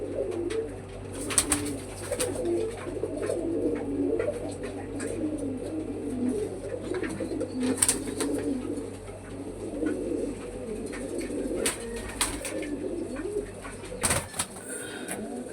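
Pigeons coo in a loft holding a collection of birds, a steady overlapping chorus of low murmuring calls that runs continuously at close range, with no talking.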